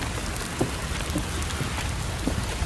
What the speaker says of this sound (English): We got rain.